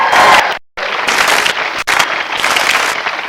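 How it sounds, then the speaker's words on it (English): Loud studio audience applause on an Irish TV quiz show, a dense wash of many hands clapping that is cut off briefly by a sharp edit, then resumes steady and full. "big round of applause for the Southern Stars"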